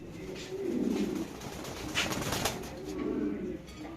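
Pigeons at a pigeon farm give soft, low, throaty coos in two clear bursts, close and fairly loud, with steady background noise between them.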